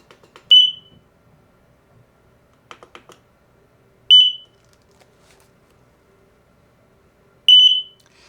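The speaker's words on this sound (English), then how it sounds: "There, you heard both of them beep at the same time" Three loud, short high-pitched beeps ring out a few seconds apart, each a doubled chirp from two X-Sense wireless interconnected smoke and carbon monoxide alarms sounding together, with faint clicks and taps between.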